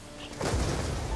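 DSR-50 sniper rifle fired in the video game Call of Duty Black Ops 2, a single heavy booming shot with a deep rolling tail, close and loud after a brief quiet lead-in.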